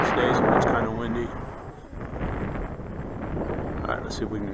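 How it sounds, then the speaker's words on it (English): Gusty wind buffets the microphone at an RC airfield, rumbling low and uneven while someone talks throughout. "It would be good just like these days when it's kind of windy."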